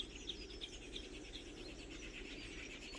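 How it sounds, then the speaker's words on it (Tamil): Faint high chirping bird calls repeat steadily over a constant hiss of forest ambience in the Veerappan forest area, distant and soft. "இந்த பறவையோட சத்தத்தை கேளுங்களேன்"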